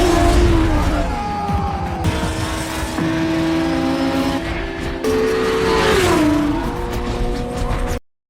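A Suzuki Hayabusa and a Yamaha R1 sport motorcycle roar off a start line in a race, engines loud and close, revving with sweeping pitch rises and shifts over a dense, continuous wash of engine noise.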